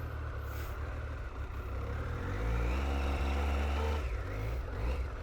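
A 26-year-old Triumph Daytona T595 motorcycle, warm already, fires up and pulls away gently, a steady loud engine drone with rising revs around the middle, close to the rider.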